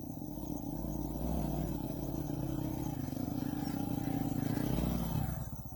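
A small Honda Pop 100 motorcycle engine drones steadily on a muddy rural road, rising slightly as it rides along, close and continuous with a rough, rattling edge.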